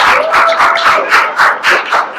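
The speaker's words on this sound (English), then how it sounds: "So boys, please clap it up for your parents right now." Basketball players clap for their parents at a travel team's season banquet, a steady burst of group applause with rhythmic pulses and some crowd cheering, fairly close and loud, with no talking over it.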